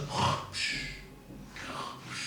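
A person imitates snoring, with a few loud breathy snorts and inhales spaced out over a couple of seconds and no speech.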